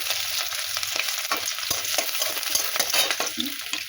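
Garlic and ginger frying in a little oil in a pan, a continuous bright sizzle with scraping stirs at an irregular pace, close and loud, no voices.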